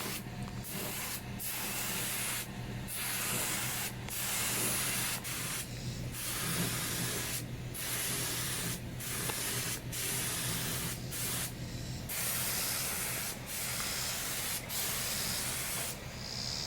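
A spray gun lays a second coat of paint onto a car's fenders, a loud, continuous hiss close by, broken by regular brief pauses as the trigger releases between passes.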